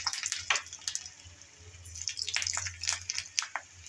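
Garlic sizzles and crackles in a ladle of hot oil, with irregular sharp pops and spits over a soft, close frying hiss.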